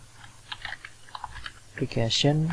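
Quick, light keystrokes tap at a computer keyboard in soft irregular bursts, with a person speaking over the final second.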